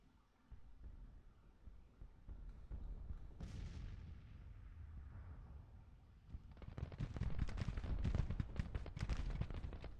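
Artillery guns in a Civil War strategy game, in the spring of 1864, boom and rumble at a distance, faint and muffled, swelling into a denser, rolling barrage toward the end.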